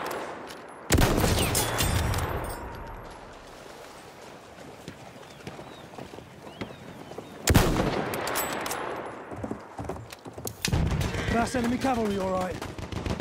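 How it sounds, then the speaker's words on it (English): Machine gun fire in the Battlefield 1 multiplayer shooter, loud bursts of rapid shots at about 1, 7.5 and 10.5 seconds, with someone speaking briefly between them over battlefield background noise. "Enemy machine gun!"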